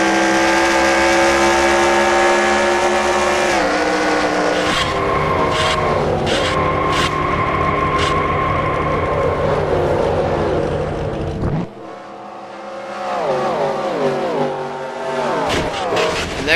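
Race cars in a NASCAR racing video game roar loudly around Charlotte, with engines rising and falling as cars shift and pass close by, and a sharp crash-like break near the end before the engines pick up again.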